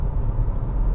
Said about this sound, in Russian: Так, включаем шестую передачу.